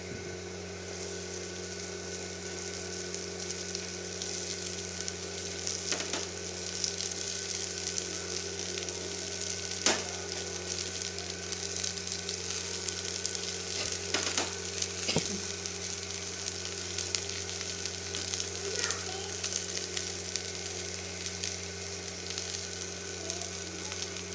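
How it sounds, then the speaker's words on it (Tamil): Chopped okra frying in oil in a pan with softened onions, giving a steady close sizzle with a few clicks of stirring and no talk. "இப்போ நம்ம அரிஞ்சு வச்சுருக்கிற வெண்டைக்காயை போட்டு நல்லா எண்ணெயிலேயே வதக்கிக்கலாம்"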